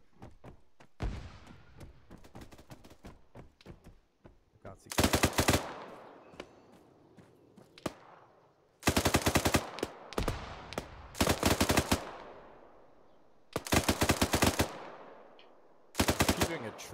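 Bursts of automatic gunfire from ArmA 3, loud rapid volleys repeated several times with quieter single shots and gaps in between, close and sharp.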